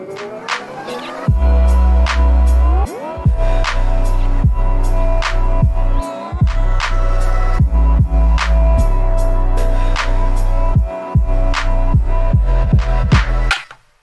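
Opening of an electronic track: a loud, full mix with deep sustained bass, layered harmonic synth tones and crisp hi-hat hits, pausing briefly around the middle before continuing to a sudden stop near the end.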